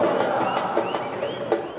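São Paulo supporters at Morumbi stadium protest after their team's first league defeat, a loud sustained crowd roar with rising shouts and whistles surging every few moments.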